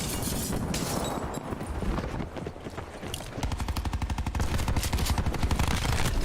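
Rapid, loud automatic gunfire rattles in a shooter video game, dense bursts with a brief lull before the firing picks up again in steady, fast repetition.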